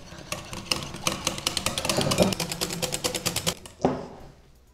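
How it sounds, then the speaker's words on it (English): A whisk beats whipping cream in a bowl with quick, rhythmic metallic ticks against the sides, close and steady, ending in a louder clatter. "Next up, what we're going to do is grab a whisk and whisk it all up."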